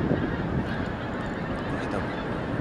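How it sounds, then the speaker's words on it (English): Flock of geese honking overhead at night in North East Scotland, a dense continuous chorus of calls against steady background noise, no talk. "Here, look at the birds."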